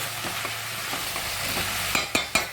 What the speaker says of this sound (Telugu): వంకాయలు అయితే వేసుకున్నాక ఒకసారి కలుపుకొని